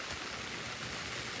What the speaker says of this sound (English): But we got the rain coming down.